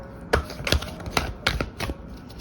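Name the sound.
shuffling tarot cards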